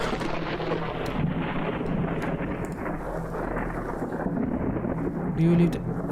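Heavy rain pouring outside a house at night in a horror video game, a dense, constant downpour with low rumbling underneath, holding steady from start to finish.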